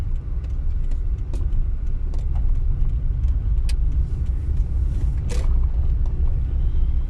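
Interior rumble of a car driving through a street in Ustka, Poland, turning right at a junction, a steady low engine and road drone with occasional faint clicks and knocks.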